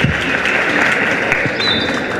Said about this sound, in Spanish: Un aplauso nuevamente para Nayeli.